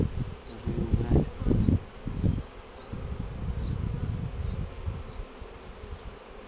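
Honeybee swarm buzzing steadily at a hive landing board while a queen is caught, a dense close drone with low rumbling bursts early on and no talk.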